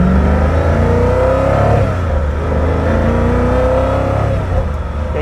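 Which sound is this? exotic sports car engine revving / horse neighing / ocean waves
exotic sports car engine revving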